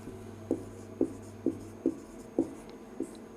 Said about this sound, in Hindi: इस भीमसेन सच्चर के नाम पर वह सच्चर फार्मूला आपका यहाँ पे लिख देता हूं